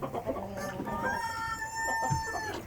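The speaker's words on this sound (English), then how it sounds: "One of the new roosters." A young rooster crows once, close by, in a thin, wavering voice that breaks partway through, with soft clucks and rustling from other chickens nearby.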